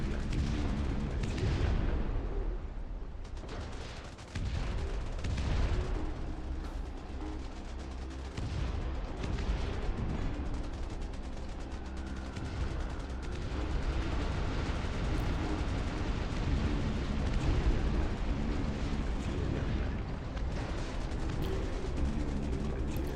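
Napalm incendiary bombs exploding in the video game Iron Nest: a dense, continuous roar of rumbling blasts and crackling fire, loud and sustained throughout with no voices.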